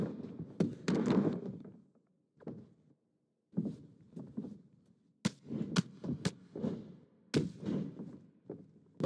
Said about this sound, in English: Neckbreaker!